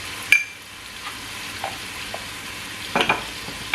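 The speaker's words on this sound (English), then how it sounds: "Then give it a stir." Egusi with heaped chili pepper sizzles steadily in a hot pot while a spoon stirs it, with sharp scraping clinks at the start and near the end over a continuous frying hiss.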